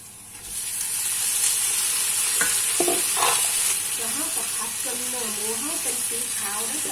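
Marinated pork is stir-fried in a hot pan with a loud, continuous sizzle and hiss, while a utensil scrapes and stirs close by and a voice talks faintly underneath.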